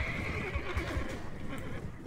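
A horse neighs in the medieval battle game Mount and Blade: Warband, a drawn-out whinny over a steady wash of battlefield noise, with a few soft thumps underneath.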